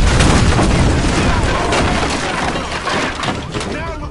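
In GTA V, a gas can explodes into a loud, sustained blast amid heavy gunfire and crashing debris, with voices talking over the chaos.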